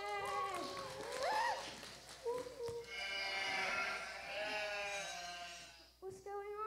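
Sheep bleating in a children's Christmas stage program, several wavering bleats that may be a performer imitating a sheep, with people speaking around them in a hall.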